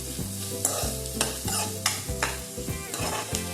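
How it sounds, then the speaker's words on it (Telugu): Chopped onions and green chillies are stirred in a hot pan for a red gram curry: a spoon scrapes the pan in rhythmic strokes over a steady sizzle, close and with no talk. "ఇప్పుడైతే మనము ఆనియన్స్ కట్ చేసి పెట్టుకున్న పచ్చిమిర్చి అయితే వేసేసుకునేసి బాగా కలుపుకున్నాము"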